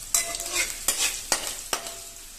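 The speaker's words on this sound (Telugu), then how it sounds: "ఆయిల్ హీట్ అయింది, ఉల్లిపాయ వేస్తాను." Chopped onion hitting about four tablespoons of hot oil for egg fried rice gives a bright, close sizzle, punctuated by three or four sharp scraping strokes of a spatula, with no voices.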